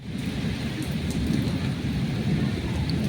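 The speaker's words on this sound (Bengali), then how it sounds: "দেখো কত বৃষ্টি পড়ছে বিদ্যুৎ চমকাচ্ছে" Heavy rain pouring outside during a thunderstorm, a dense, loud, steady roar of falling water with a low rumbling underneath throughout.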